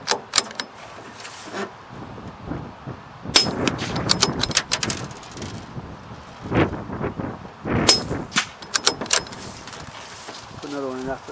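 Subsonic .22 LR rifle shots aimed at cartons 60 and 85 yards away: a few sharp, fairly quiet cracks spaced several seconds apart, mixed with metallic bolt clanks and handling noise.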